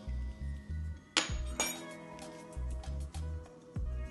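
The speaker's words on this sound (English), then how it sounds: "maybe if I give it a stir, a little stir action" A metal spoon gives a short stir to Folgers ground coffee in a glass, sounding as close, bright clinks against the rim, first a sharp strike and then a few lighter taps over a low background hum.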